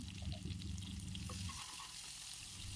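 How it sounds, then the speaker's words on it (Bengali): Garlic paste and spices with onion and tomato sizzling and frying in a pan, a soft steady crackle with some stirring scrapes early on, quiet and close. "রসুন বাটা দিয়ে ভালো করে মশলাটি ভাজতে হবে"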